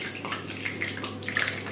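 Water pours steadily from a kitchen tap in a home, a continuous close splashing hiss without talk over it.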